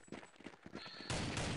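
Gunfire in the video game Counter-Strike 1.6 on a CSDM server, a quick burst of rapid sharp shots followed by a louder sustained stretch of firing, all close and dense.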